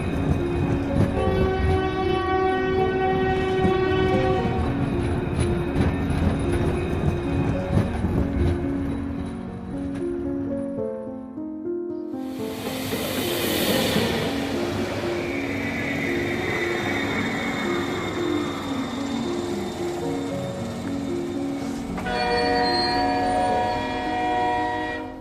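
A cartoon train runs steadily with loud rhythmic clattering wheels and sustained horn-like tones. A brief dip near the middle gives way to a bright hissing rush before the rolling clatter resumes.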